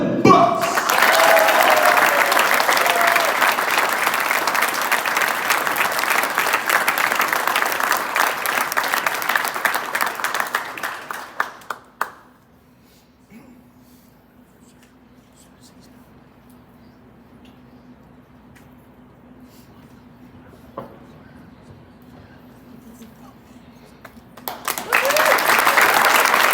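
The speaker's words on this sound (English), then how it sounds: "Can everybody please give a huge round of applause for Dylan Butts?" Audience applause at a Nashville SC Unified Team signing day, loud sustained clapping for about twelve seconds that fades to near silence with faint room noise, then a fresh swell of clapping at the end.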